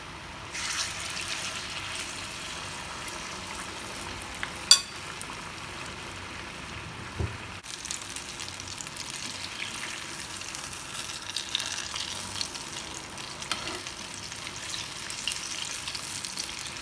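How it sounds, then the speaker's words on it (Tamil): Banana fritters (pazhampori) fry in hot oil with a faint, steady crackling sizzle and occasional soft pops, quiet and continuous with no voices. "எண்ணெய் சூடாயிருச்சு. நம்ம வந்து பழங்களை ஒன்றா போட்டு பொரிச்சு எடுத்துடலாம்."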